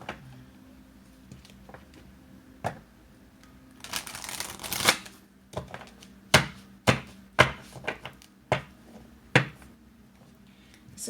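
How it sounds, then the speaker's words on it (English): A deck of reading cards is shuffled by hand, starting with a rough riffle burst and followed by a series of sharp, evenly spaced taps and slaps as the cards are squared and cut, close and clear in a quiet room. "I need to shuffle these."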